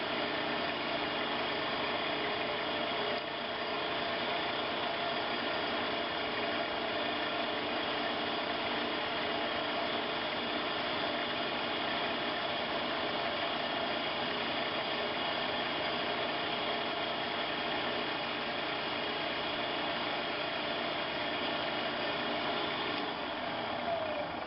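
A Pacemaker lathe runs at 200 RPM, giving a steady, close mechanical hum and drone that holds unchanged for the whole stretch, with no voices.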